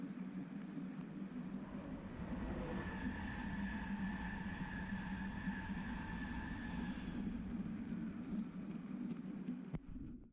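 A model ex-Great Northern 0-6-0 steam locomotive runs steadily with a continuous mechanical rumble and faint whirring tones, moderately close, before the sound cuts off abruptly.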